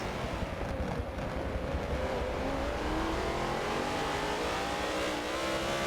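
BMW M3 GT2 race cars accelerate in a racing video game at Nürburgring GP, a continuous loud engine drone with rising gear-by-gear whine, several cars overlapping steadily for several seconds.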